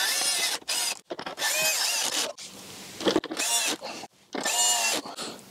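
Screws being driven in underneath while an INNOVV K2 camera is installed on a BMW R1250GS HP motorcycle: loud, squeaky, whining bursts of a driver or ratchet in several runs, separated by short pauses, with no talking.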